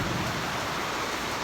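Heavy rain pours steadily outside during a super typhoon, a dense, continuous wash of drops beating on surfaces close by, with a low rumbling undertone throughout and no voices.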